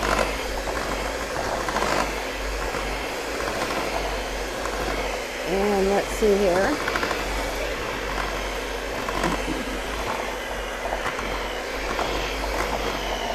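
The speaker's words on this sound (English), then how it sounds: "We want to cream all that sugar and butter together." An electric mixer creams sugar and butter for pecan cranberry cookies, a steady motor whirr with faint rattling that runs throughout, while someone speaks briefly over it.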